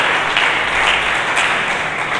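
Sustained applause from a church congregation during a sermon, a dense steady wash of clapping at close range with no voices over it.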